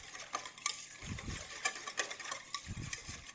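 A whisk stirring milk, water, rice and onion soup mix in a bowl, with quick scraping strokes that come in two short bursts of swirling over steady clatter.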